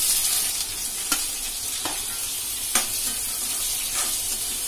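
Onions and potatoes fry in a pan for Punjabi-style spinach kadhi, giving a steady close hiss and sizzle with a few soft scrapes of stirring and no voices.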